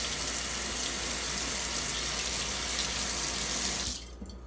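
Tap water runs steadily over a cake dowel tool being rinsed in a sink, a constant close rushing splash that cuts off near the end, leaving quiet.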